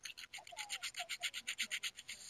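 Rhythmic sandpaper rubbing in the video game Ghost Recon Wildlands: about fifteen quick, even back-and-forth rasping strokes, close and fairly quiet, with a faint murmur underneath.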